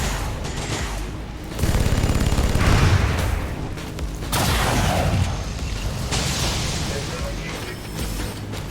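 Micro missiles burst in the XCOM 2 video game as a loud volley of repeated blasts and crashes, swelling and fading in waves over a busy battle background.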